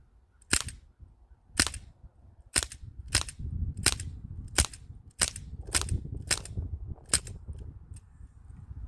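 A Sig Sauer MPX .177 CO2 air rifle is fired in about eleven sharp, separate shots a half second to a second apart. Each crack is close and loud, with faint rustling between the shots.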